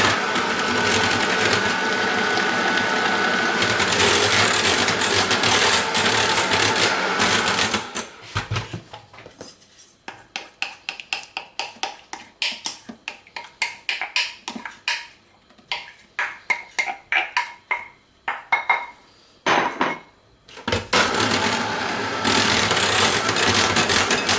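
An electric mixer whirs loudly as it blends whipped cream with jelly for a strawberry cake, running steadily, then breaking into choppy stop-start bursts mid-way before a long continuous run returns at the end.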